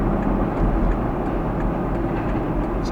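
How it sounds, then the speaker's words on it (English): A CSX freight train rolls past with a steady, loud, low rumble and broadband roar that holds evenly throughout, with no voices. "there's the CSX going by already"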